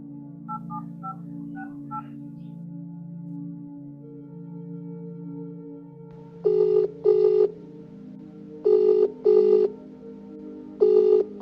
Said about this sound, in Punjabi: ਤੁਸੀਂ ਨਾ ਲਾਵੀ ਨੂੰ ਫੋਨ ਕਰੋ